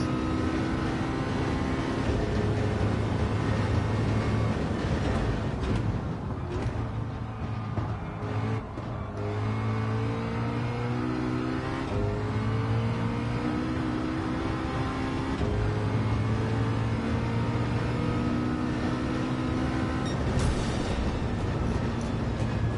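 Racing car engines in Gran Turismo 7 drone loudly and continuously during an online multiplayer race's final lap, with whining revs rising and falling as cars accelerate and shift, no talking over them.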